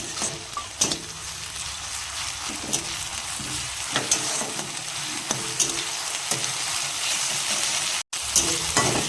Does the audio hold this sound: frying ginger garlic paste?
yes